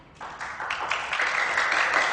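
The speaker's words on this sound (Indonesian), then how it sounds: "Udah, nggak usah pakai tepuk tangan." Scattered clapping from listeners rises gradually over about two seconds, fairly soft and building toward a steadier patter, with no talk over it.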